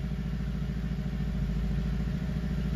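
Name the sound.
Skoda Kodiaq engine revs changing while in park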